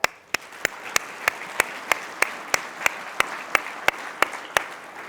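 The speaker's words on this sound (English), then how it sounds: "Can we give them a huge round of applause for getting us to 1 year?" Audience applause at a keynote address by an MP, a dense wash of clapping from a roomful of people with sharp regular accent claps standing out, steady and moderately loud with no talking.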